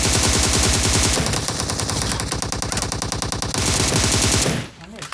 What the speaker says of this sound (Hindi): तो यहाँ से थोड़े मुझे साउंड आते हैं फायरिंग के।